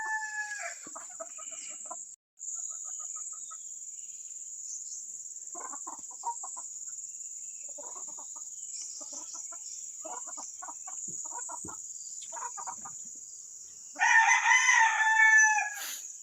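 Several fighting cocks crow and cluck in short bursts, with one loud close crow near the end over a steady high insect-like drone.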